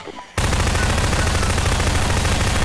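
A combine bomb detonates in the Garry's Mod game, a sudden loud blast at once followed by a sustained roaring, crackling rumble that keeps at full level to the end, with no talk.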